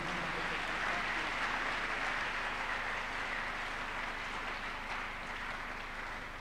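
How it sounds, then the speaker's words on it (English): A church congregation claps together during a Tuesday miracle service, producing dense, steady applause that stays loud throughout and fades only slightly near the end. "Let's clap unto God and appreciate him."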